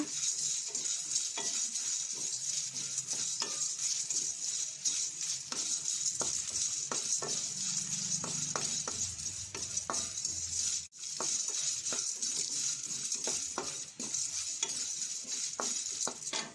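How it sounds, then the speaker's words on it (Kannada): A spoon scrapes and stirs through dry spices, including dried chillies and coriander seeds, in an empty pan with the stove off, steady rhythmic scratching with a faint background hiss and no voices. "ಬರೀ ಬಾಣಲೆಯಲ್ಲೇ ಬಿಸಿ ಮಾಡ್ಕೊಳ್ಳೋಣ"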